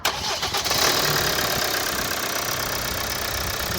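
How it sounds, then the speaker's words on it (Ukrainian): An engine cranks briefly and catches, then settles into a steady, even idle that continues loudly to the end. "завівся бадьоро. Двигун не ковбасить, зайвих звуків немає."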